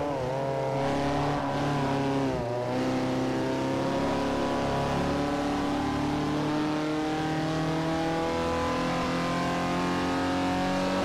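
Race car engine in Forza Motorsport 4, droning steadily at high revs with shifting pitch and a brief gear change early on, continuous and loud with no talk.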